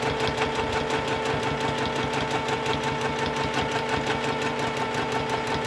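A sewing machine quilting fabric that glides over a Supreme Slider mat, running at a steady fast stitching rhythm with a continuous mechanical whir and regular close ticking throughout.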